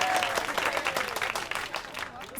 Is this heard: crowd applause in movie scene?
yes